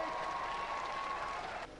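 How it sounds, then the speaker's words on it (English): An audience at a televised robot combat show gives a steady wash of applause for a competing robot team. The applause is fairly faint and continuous, then drops off abruptly near the end. "give them a round of applause"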